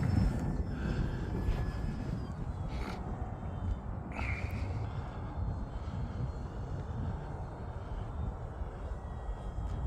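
A small E-flite Commander mPd radio-controlled airplane buzzes faintly at a distance, its thin motor whine drifting in and out beneath heavy, continuous wind rumble on a winter flying field.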